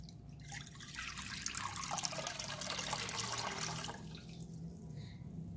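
Tap water pours steadily into a bowl in a home kitchen, a continuous splashing trickle lasting several seconds before it tapers off and the flow stops.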